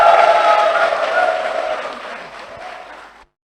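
Applause from the gathered members at a church synod session, a dense burst of clapping that starts loud and gradually thins out over a few seconds before stopping abruptly.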